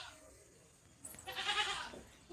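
A single goat bleats once at moderate distance outdoors beside a house under construction, a short wavering cry over faint background noise.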